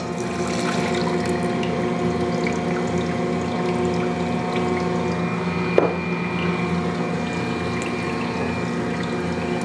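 Yeast mixture poured into an Ankarsrum mixer bowl while making bread: a steady, continuous liquid wash with a single brief spike midway, fairly loud and close.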